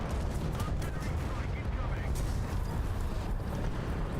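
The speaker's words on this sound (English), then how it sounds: "Really? Artillery?" Artillery fire in the War Thunder battle game, with repeated booms and bursts dense in a constant rumbling din, and a voice talking over it.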